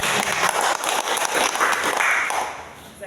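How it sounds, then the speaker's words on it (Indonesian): Applause and clapping from a seated sales audience at a public-speaking session in Jakarta fill a few seconds, dense and steady, fading toward the end. "Tepuk tangan untuk Bapak Ibu."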